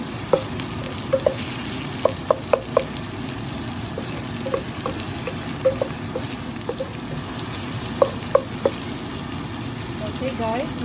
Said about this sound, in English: you saute the onions